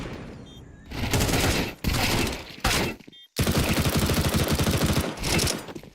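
MAC-10 submachine gun fire in Counter-Strike 2, a close, loud rapid rattle in several long bursts separated by brief pauses, with faint game ambience in the gaps.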